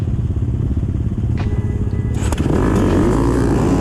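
Racing motorcycles at the start of a TORCS race idle in a loud, rumbling pack, then surge into a sharp, roaring rev as they pull away together, heard close up.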